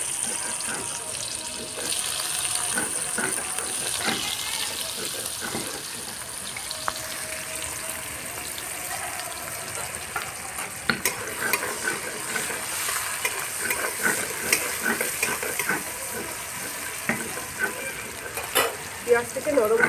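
Chopped onion frying in a pan with cardamom and black cardamom for egg pulao, a continuous close sizzle with occasional stirring scrapes and clicks.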